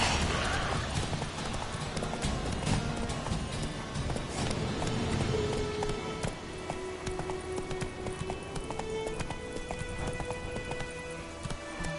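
A horse gallops in The Witcher 3, with a dense, continuous hoof rumble under a layer of game music and ambience. Sustained tones grow more prominent toward the end.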